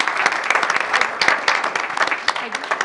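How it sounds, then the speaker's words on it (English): Dense, lively applause from a city council meeting audience fills the whole stretch, steady and close. "let's give her one more round of applause"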